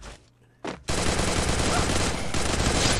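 Gunfire in the mobile battle royale game Free Fire: after a couple of brief shots, a dense, loud, sustained burst of rapid automatic fire roars continuously for about two seconds, close and harsh, with no talking over it.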